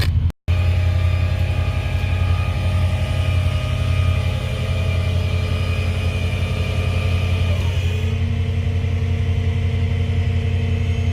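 Mercedes CL550 V8 engine running after starting, a loud steady low idle rumble heard close up, with a brief cut near the start and a slight settling of pitch later on.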